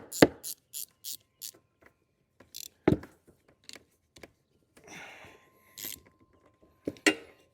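A ratchet wrench tightens a fitting while checking an ATV whose start pushbutton does nothing, giving short bursts of clicking separated by pauses, with several louder clicks and a little handling noise in a quiet space.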